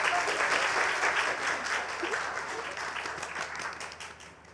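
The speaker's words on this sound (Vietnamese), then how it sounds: "một tràng pháo tay xin được vang lên thay cho lời chúc mừng Hội dòng Thánh Clara Thánh Thể Truyền Giáo và chị Sophie hôm nay" A church congregation applauds at a Clara Sisters' vow ceremony. The clapping is dense and sustained, then slowly fades.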